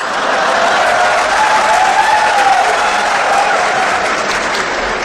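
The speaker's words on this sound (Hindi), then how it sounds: "व्यंग पर तालियां तो अब आपकी अब उठेंगी" Audience applause at a Hindi satirical poetry recital (kavi sammelan) in India, a steady dense wash of clapping that fills the whole stretch at full strength.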